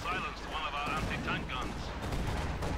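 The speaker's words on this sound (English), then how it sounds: "And we also got mortars there firing away." Mortar and field gun fire in a Company of Heroes 2 match, a series of distant thumping shots and bursts mixed under steady game noise, with a voice talking over it much of the time.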